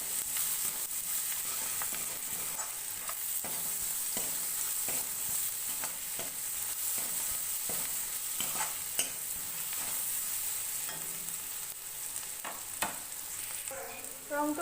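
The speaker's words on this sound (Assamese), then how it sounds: "আকৌ দি এবাৰ লৰাই ভাজি থাকিব" Onions being stir-fried in a pan for a chutney, a steady close sizzle running throughout with repeated scraping and clacking stirring strokes at irregular intervals, no voices.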